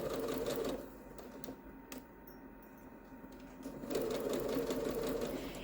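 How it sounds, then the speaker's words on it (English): Sewing machine stitching a fabric pouch at a 2mm stitch length, a steady close mechanical whir that pauses briefly in the middle and then resumes at full speed. "I am using a 2mm stitch length here. I'm going to back tack."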